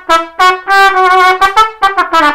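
A mariachi trumpet plays a phrase from El Son de El Cuatro in bright, loud, close staccato notes with short gaps between them, alone with no voices.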